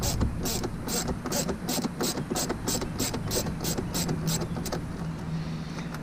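Fasteners on a Ford Raptor mud flap mount being loosened by hand, a steady run of quick, evenly spaced ratcheting clicks at close range with mechanical rubbing underneath, no talking.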